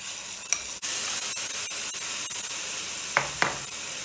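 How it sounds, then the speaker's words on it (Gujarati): Tomato juice poured into a hot pan sizzles loudly and steadily while being stirred, with a few sharp scrapes and clicks of the spoon against the pan. "ને પછી ટમેટાનું જ્યુસ નાખું છું"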